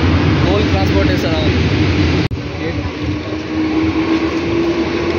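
A goods train hauling coal rumbles past at close range in a continuous loud roar of wagons. Faint voices sound near the start, and a brief sharp break falls midway.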